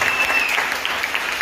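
Applause from an audience at a religious teaching session, a brief dense burst of many clapping hands, steady and fairly loud throughout.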